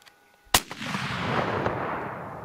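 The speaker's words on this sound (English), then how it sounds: "Shoot her again." A single loud rifle shot from a January hunt in Vermijo, New Mexico, sharp and close, followed by a long rolling echo that fades slowly across open country.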